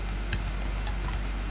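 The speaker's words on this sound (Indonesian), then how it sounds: "jadi saya langsung aja ketik cmd" A few quick keystrokes on a computer keyboard typing a short Windows command, faint and close over a steady low hum, with a small cluster of clicks and no talking.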